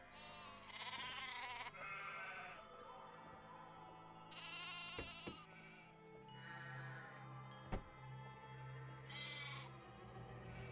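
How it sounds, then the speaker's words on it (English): Sheep bleating in the Nancy Drew game The Haunting of Castle Malloy, several long wavering bleats in a row over faint background music, with a few sharp clicks, no talking. "Here, sheepy, sheepy, sheep."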